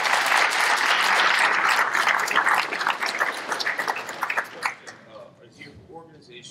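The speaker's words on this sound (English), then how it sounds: "And the clapping. We do appreciate it." A conference audience at DevOpsDays NYC 2015 applauds steadily for several seconds, the clapping thinning out and fading toward the end.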